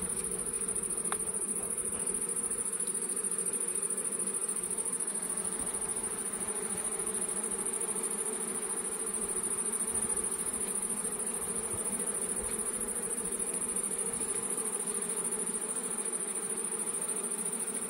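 Honeybees buzz steadily around an open hive during a summer honey harvest, a dense continuous drone with no voices, the swarm close and constant throughout.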